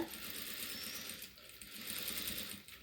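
A sewing machine stitches cloth for a dotted and cross-patterned strip, a rapid, even, close mechanical whir that eases briefly partway through before running on, with no talk.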